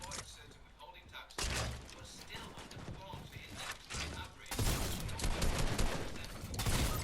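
Gunfire from many players in a Fortnite match, a dense continuous barrage of shots and impacts that grows heavier and louder partway through, with no pause.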